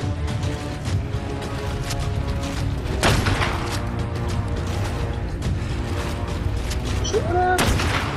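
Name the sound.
gunfire from a video game shootout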